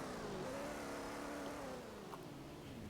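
A police car engine revs and accelerates in the Roblox game Greenville, a steady rising mid-pitched engine drone, fairly quiet and continuous with no talking.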